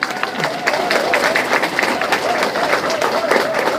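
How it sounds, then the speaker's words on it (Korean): An audience at a Korean lecture hall breaks into sustained applause, a dense, even wash of many hands clapping with murmured voices and a faint tonal sound underneath. "우리 박정희 대통령에서 박수 한번 칠까요?"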